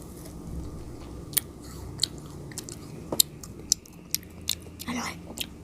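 Large frozen grapes are bitten and chewed right at the mic, giving a series of sharp, icy crunches at irregular intervals over soft, wet chewing.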